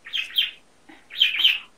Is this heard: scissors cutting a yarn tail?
no